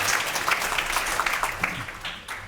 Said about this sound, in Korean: 뜨거운 박수 좀 부탁드리겠습니다